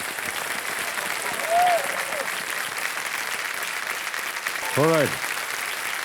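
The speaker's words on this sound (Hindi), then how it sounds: "एक बार फिर जोरदार तालियां बज जाएं इनके लिए।" Audience clapping on a TV quiz-show stage for contestant Animesh from Nagpur, Maharashtra, a steady broadband wash of applause under a host's voice, with musical stings sounding in between.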